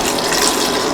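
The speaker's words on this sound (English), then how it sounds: "Now pour in the" Coconut milk pours into a cooking pot for an eggplant stew, a loud, continuous liquid gush lasting about a second with no voices.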